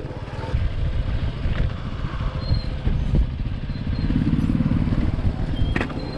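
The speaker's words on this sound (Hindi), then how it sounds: "मैंने फर्स्ट गियर पे उतारा है बाइक को" A KTM Duke 125 motorcycle in first gear descends a steep, rocky dirt slope off-road in Ladakh, its engine a steady low drone and rumble with occasional clatter and knocks from the terrain throughout.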